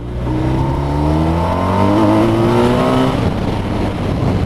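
A 2019 BMW R1250 RT motorcycle accelerates hard in second gear, its engine note climbing steadily in pitch over several seconds, loud and close with wind noise, no talking.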